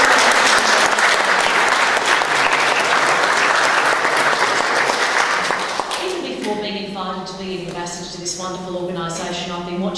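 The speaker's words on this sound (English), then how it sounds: "So, have had a round of applause for you." Round of applause from the audience at a talk on aid-in-dying law reform, loud sustained clapping for about six seconds that then fades as a voice begins speaking.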